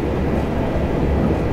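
A train rolls along steadily in Train Simulator 2018 on the Brighton to Cambridge route, giving a continuous low rumble with a broadband hum and no sharp events, close and evenly loud throughout.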